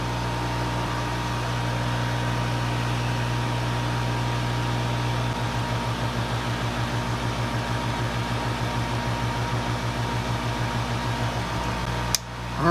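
A hot air rework station blows steadily while heating a MacBook Pro circuit board to solder an NVMe SSD in place, a continuous airy hiss with a low hum and faint pulsing, close and alone without talk.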